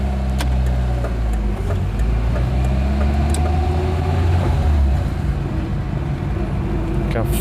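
A Lada Riva Estate VAZ 2104 drives through rush-hour traffic in Milton Keynes, its engine droning loud and steady from inside the cabin, with low road rumble and gear changes through a heavy clutch.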